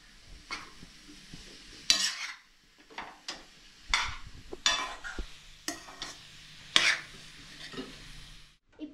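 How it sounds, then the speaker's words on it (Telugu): A spoon repeatedly stirs and scrapes carrot halwa in a pan over a low flame, producing irregular scraping bursts with a soft sizzle between them. No one speaks. "ఇప్పుడు నేను కలుపుతున్నాను."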